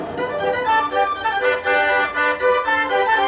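Music played back from a homemade cassette tape on a tape machine, a clear, dense and steady sound at moderate volume for a few seconds without speech.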